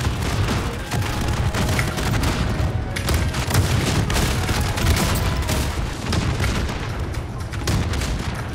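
Repeated booming blasts and crackling bursts in Call of Duty: Warzone keep going over a dense, noisy background, loud and close, with several explosions piling into one another.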